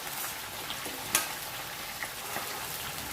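Fresh fenugreek leaves fry in a pan with a soft, steady sizzle and crackle, a brief louder pop near the middle, and no voices.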